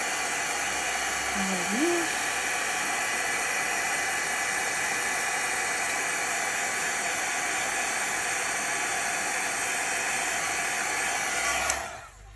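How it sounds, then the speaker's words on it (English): A heat gun blows steadily on acrylic paint-marker lines, a constant broadband rushing hiss that holds at even loudness for about twelve seconds before cutting off near the end. "just hit that with the heat gun"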